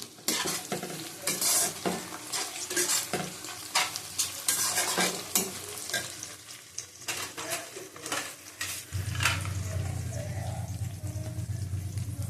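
A whole onion frying in oil in a pan for a Bengali chicken curry with few spices, stirred steadily, with scraping and clinking against the pan over a constant close sizzle that swells louder toward the end.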